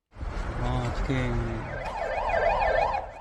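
An ambulance and a police car arrive at a night-time crash scene on a road where a drunk driver's car hit a motorcycle; a wailing siren rises and a fast warbling siren follows, moderately loud, with a brief voice.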